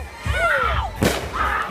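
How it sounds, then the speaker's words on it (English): New Year fireworks in Puerto Rico, with whistling rockets rising and a loud burst cracking in the middle, amid low rumbling booms and background noise outdoors. "Here we go in our fireworks."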